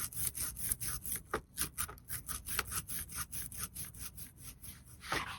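An ink roller rolled forward and back across a printmaking surface, giving a steady rhythmic series of sticky, rasping strokes, close and fairly quiet, with no voices.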